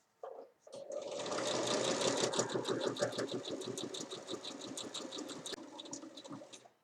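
A sewing machine stitches a cushion cover seam in one loud, steady run of rapid needle strokes lasting several seconds, beginning and ending with brief handling noises.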